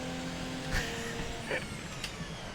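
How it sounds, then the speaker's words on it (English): Van engine in Assetto Corsa, a bus-like drone with a few sharp hissy bursts like air brakes or gear shifts, steady and fairly loud with no talk. "Listen to that van sound, guys. Sounds like a school bus."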